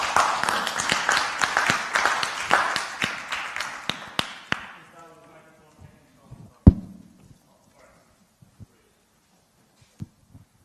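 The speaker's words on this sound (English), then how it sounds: "please give a round of applause for Kustrim." Conference audience at a startup event clapping for a speaker, a burst of brisk overlapping claps that gradually thins over about four seconds into scattered single claps and quiet room sounds.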